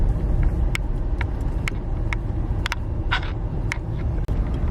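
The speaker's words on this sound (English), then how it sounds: "we will just park the car" A car arrives at a kangaroo sanctuary in Alice Springs, Australia, its steady engine rumble and road noise holding close and loud throughout, with a few faint clicks and no one talking.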